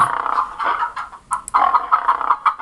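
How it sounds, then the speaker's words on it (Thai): Chicken clucking sound effect played in an interactive PowerPoint story, several loud bursts of rhythmic clucks and squawks with short pauses between them, heard alone without talk. "ไก่ก็ร้องเสียงดังขึ้นนะครับ"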